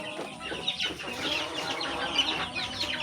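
Aseel chickens cluck on a mixed farm, giving a busy run of short, overlapping calls at moderate distance with steady background noise and no speech.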